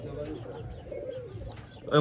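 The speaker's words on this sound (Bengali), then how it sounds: "এটা তো মেলা পুরাতন কবুতর অনেক পুরাতন কবুতর এটা" Old domestic pigeons give low, throaty cooing up close across the short stretch, with a voice faintly mixed in and a louder knock at the end.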